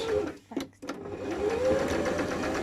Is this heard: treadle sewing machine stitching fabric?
yes